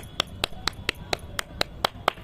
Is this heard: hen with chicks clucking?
no